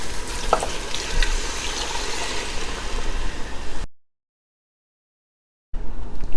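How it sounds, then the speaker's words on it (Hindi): Two cups of water pour into a pressure cooker of mutton for biryani with a steady rushing hiss. The sound cuts to silence for a moment, then resumes close by. "2 कप पानी मैं इसमें डाल रही हूँ"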